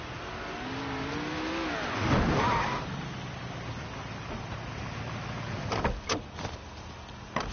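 A car engine idling and revving in the Mafia 3 video game, a low rumbling drone with one rising rev early on, followed by a few sharp mechanical clunks near the end.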